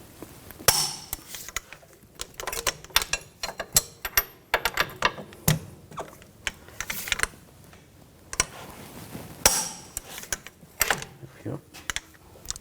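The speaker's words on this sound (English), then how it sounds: "Now we're going to torque these nuts and bolts to 184 foot-pounds." A torque wrench tightens front strut nuts and bolts to 184 foot-pounds on a 2000-2006 BMW X5, giving close, irregular ratcheting clicks and sharp metallic snaps in short bursts with quiet gaps between them.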